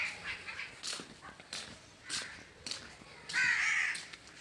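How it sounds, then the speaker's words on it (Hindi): Crows caw repeatedly outdoors near trees in a rural Pakistani village, with harsh calls roughly every half second and a louder, drawn-out caw near the end, over faint background noise. "इधर कौवे शोर तो हमेशा करते रहते हैं"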